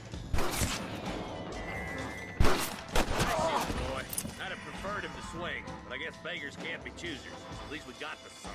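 Gunfire in the Western video game Red Dead Redemption: a few loud sharp shots early on, followed by voices talking over ambient game sound.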